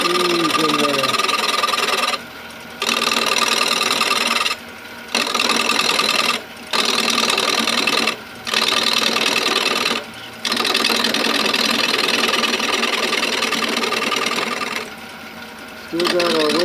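A 3/8 inch spindle gouge cuts a wooden spoon blank spinning on a lathe, a steady loud whirring scrape broken by several brief pauses as the tool lifts off, with someone talking faintly over it.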